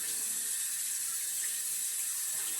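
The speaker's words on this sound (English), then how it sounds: "Washing my face in the morning, I'm not going to use like any face soap, face towel, hot water" Steady hiss of hot water running from a bathroom sink faucet during a morning face wash, close and continuous throughout with no voices.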